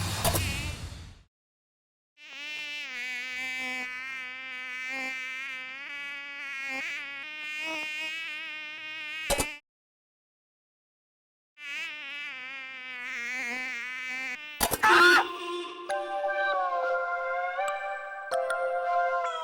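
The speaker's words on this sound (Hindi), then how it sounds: "मच्छर ढूंढ रही हूँ" Close, high-pitched buzzing of a mosquito, steady whining tones that waver slightly, heard in two long stretches separated by brief silence, with a few clunks and other sounds near the end.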